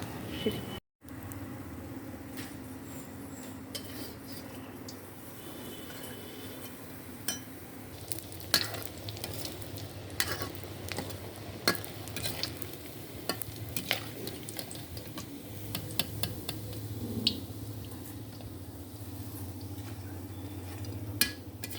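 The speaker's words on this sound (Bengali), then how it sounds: "লাল করে ভেজে নেব। ভাজতে সময় লাগবে না, কারণ এটা সেদ্ধ করা।" Boiled mutton Kashmiri kebabs frying in a pan, a faint low sizzle running throughout with scattered utensil clinks and scrapes as they are turned.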